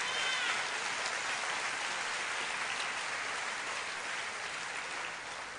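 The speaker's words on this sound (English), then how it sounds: "Let's give them a round of applause." Crowd applause at a community forum on homelessness in San Pedro, a steady, dense patter of clapping from a large audience that continues for several seconds before fading slightly at the end.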